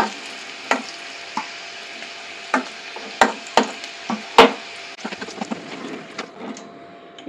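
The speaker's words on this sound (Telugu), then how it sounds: "ఈ నూనెలో పోపు దినుసులు వేస్తున్నాను, ఆవాలు, జీలకర్ర," Mustard seeds and cumin tempering in hot oil left over from deep-frying potatoes, a steady crackling sizzle broken by repeated sharp pops and spits, close and fairly loud with no talk.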